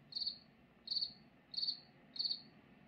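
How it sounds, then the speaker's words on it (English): Cricket chirping effect played by a Google Nest Hub Max smart speaker, four evenly spaced high trilling chirps, clear and fairly quiet in a still room. "Cricket."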